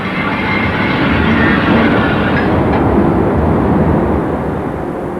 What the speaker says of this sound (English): the wagons freewheel the final 100 metres into the cement works